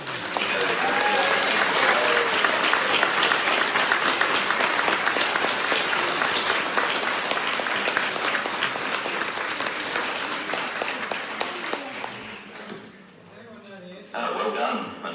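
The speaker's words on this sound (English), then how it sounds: "just a quick hooray or applause for the astronaut" School audience at Monaro High School in Cooma, NSW, bursts into sustained loud applause and cheering for an astronaut, the clapping thinning and fading near the end before voices resume.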